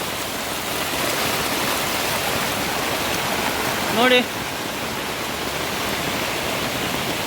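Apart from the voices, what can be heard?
rainwater rushing and flowing over land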